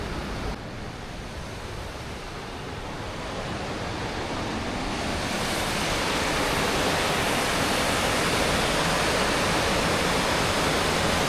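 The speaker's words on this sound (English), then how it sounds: "there's a lot of water rushing down there" Water rushes down at the Kloyia Dam as a dense, steady roar of broadband noise that swells louder as it goes on and then holds constant, with no speech.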